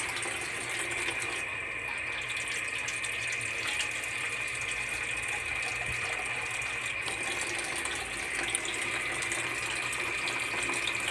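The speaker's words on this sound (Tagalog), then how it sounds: "Lagyan natin tubig para masabaw-sabaw siya." Water streams steadily into a cooking pot for a home-cooked soupy dish, a constant close splashing pour with a faint high ringing tone running throughout, no voices.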